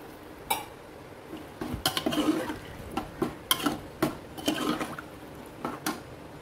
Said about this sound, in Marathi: त्यानंतर मी याच्यामध्ये पाणी ॲड करणार आहे।